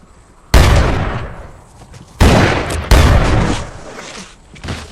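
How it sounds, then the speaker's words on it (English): Gunfire in a western film: three loud, sharp shots, each bursting out and then trailing off in a long ringing echo, with a fainter thump at the very end. "ambushes the man from behind and shoots him dead"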